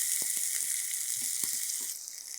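Onion, green chilies and cardamom sauté in a pot for vermicelli biryani, a bright continuous sizzle with scattered soft stirring knocks and clatters.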